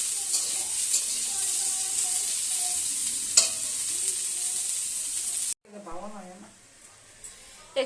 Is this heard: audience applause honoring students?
no